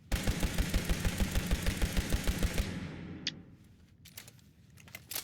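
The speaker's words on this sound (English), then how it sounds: "So this is more for close to mid-range fights, but it is full auto." Laser rifle rebuilt as a shotgun firing full auto in the video game Fallout 76, a fast steady burst of punchy shots for about two and a half seconds, then a few scattered fainter sounds.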